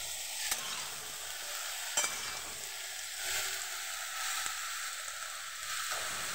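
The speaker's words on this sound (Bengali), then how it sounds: "এটা কিছু নেড়ে দেবো।" Vegetables and a fish head frying in a pan for a Malabar spinach curry, a continuous sizzle with a few sharp scrapes and clinks of a spatula stirring, no talking.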